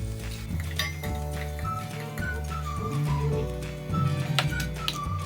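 Fried onions for ghee rice being moved from one pot into another, with metal spoon scrapes and clinks against cookware over a steady background hum with tonal sounds, no talking.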